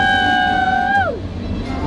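A steady two-tone train whistle sounds on the Epcot Imagination ride, holding level for about a second before bending downward and fading out against a busy background.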